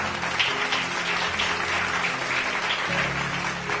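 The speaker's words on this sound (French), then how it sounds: "Si tu m'as compris, acclame pour Jésus." Church congregation applauding and cheering at a sermon, a dense continuous wash of clapping heard close and fairly loud throughout.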